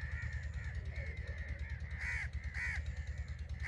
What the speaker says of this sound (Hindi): लेकिन ये जो कवे होते हैं ना, ये बड़े शातिर दिमाग के होते हैं।